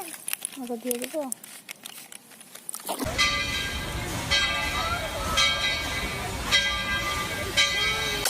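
A toy train plays its electronic sound effect, a bright tonal chiming with regular whistle-like bursts, close and moderately loud, after a few seconds of quieter handling noises.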